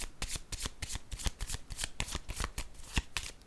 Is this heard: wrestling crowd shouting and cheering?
no